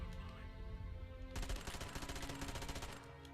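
Rapid gunfire bursts from a sniper fight in the shooter game Conduit 2, starting abruptly after a quiet stretch and rattling on loud and dense over a low game soundtrack.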